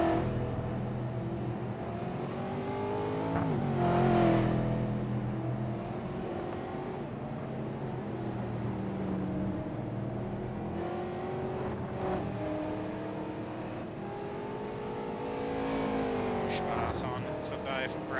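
Stock cars race at Sebring in iRacing, engines droning and rising through acceleration with cars passing by, steady and fairly loud under commentators talking throughout.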